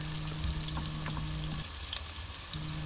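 Chopped onion fries in hot oil in a pan with a steady close crackle and sizzle, a faint low hum running beneath it and a few light clicks.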